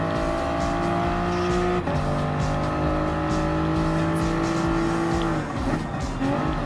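Race cars from Gran Turismo Sport, including an NSX, a Viper, a Corvette and an Aston Martin, roar steadily in a sustained high engine drone, with shifting pitch as they pass and a brief dip near the end, loud and without talk.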